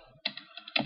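Computer keyboard typing up close, with a short burst of rapid clicking keystrokes that starts after a brief pause.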